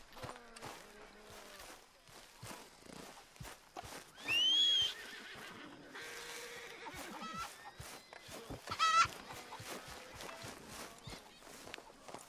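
A horse in Red Dead Redemption 2 whinnies loudly amid a steady patter of hoofbeats, then gives a shorter neigh a few seconds later.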